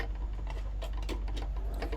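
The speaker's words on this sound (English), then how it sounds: "just sew across there" A sewing machine stitching across a fabric bag to form a mitered corner, giving a rapid close mechanical patter over a low steady motor hum, brief and without speech.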